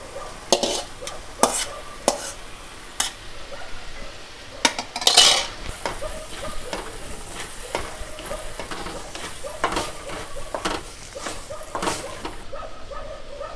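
A spoon stirs boiled beetroot into butter masala gravy in a pan, with repeated clinks and scrapes against the metal, close and fairly loud over a soft sizzle.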